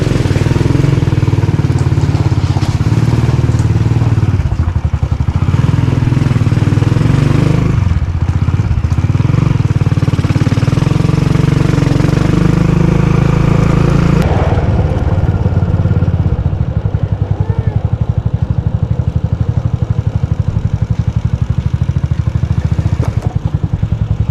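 A motorcycle engine runs steadily and loud throughout, close by, with a rough rumbling drone that shifts as it rides along.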